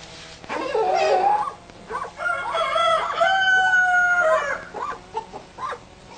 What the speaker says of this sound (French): les poules sont en pleine forme et Typhoon ne se sent pas vraiment chez elle